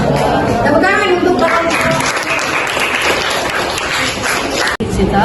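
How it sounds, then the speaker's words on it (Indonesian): Loud, close applause from a classroom audience after a group presentation, dense clapping with some chatter mixed in, holding steady for about five seconds with a brief cut near the end. "Tepuk tangan untuk"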